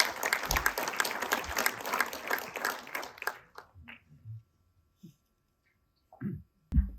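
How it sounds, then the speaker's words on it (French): Audience applause at the launch event for the Thiérache film-location project. Loud, dense clapping fills the first three seconds and then stops abruptly, leaving near silence broken by a couple of faint knocks and small noises. "Nous pouvons les applaudir bien fort."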